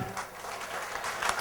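Applause from a crowd at a devotional jagran night gathering in Bangalore, a broad steady patter of clapping filling the moment, with some voices mixed in underneath.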